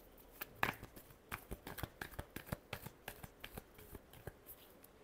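Tarot cards being shuffled by hand, a rapid run of crisp papery riffles and slaps repeating steadily and close, with no talking.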